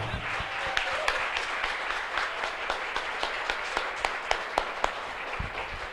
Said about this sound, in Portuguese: vamos aplaudir ao Senhor Jesus, nosso Deus!